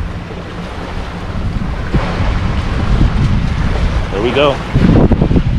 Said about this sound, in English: Nice offshore wind blowing offshore.